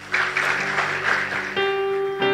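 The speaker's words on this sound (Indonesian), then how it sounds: "Teman-teman undangan semua boleh kasih tepuk tangan." Audience applause at a church youth service, a sustained wash of clapping from a gathered crowd that fills the whole moment, with a steady musical tone sounding beneath it.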